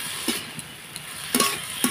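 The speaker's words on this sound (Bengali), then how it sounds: "এই ভাদালটাকে না ভালোভাবে সুন্দর করে নাড়াচাড়া করে ভাজতে হবে।" A utensil scrapes and stirs plantain fritters in a pan with a few distinct strokes over a continuous soft sizzle of frying oil.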